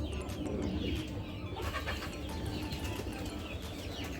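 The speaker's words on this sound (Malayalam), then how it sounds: "ഇത് വീട്ടിലെ ആട്ടപ്രാവാണ്." Domestic pigeons coo softly at home beside a small farm setup, low murmuring calls repeating under steady background noise, with no talking.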